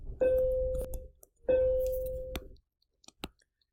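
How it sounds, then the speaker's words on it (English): A school bell rings for the passing period, sounding twice as two sustained electronic tones about a second long each, with a few faint clicks afterward and no talking. "that's just the bell for the next passing period while I record this video"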